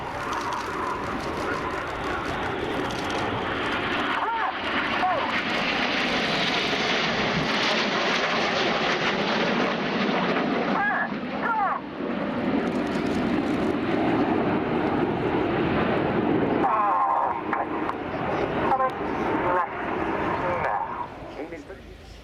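Red Arrows display jets fly rollbacks at an air show, a loud, sustained roar of jet engines that swells and sweeps overhead for the whole stretch, with a brief dip and renewed surge near the end.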